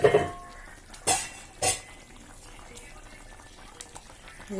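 A fish curry of local fish and a few vegetables bubbles in a pot, with a soft steady simmer and a few sharp clinks of a utensil against the pot near the start.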